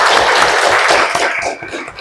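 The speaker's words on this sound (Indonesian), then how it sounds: "Sekali lagi tepuk tangan untuk semuanya." Classroom applause for all the students, a dense, steady patter of many hands clapping close by that thins out toward the end.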